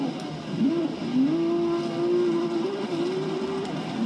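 A W Motors Lykan Hypersport races in Forza Horizon 3, its engine holding a steady, strained drone with small pitch rises and dips as it accelerates through the gears.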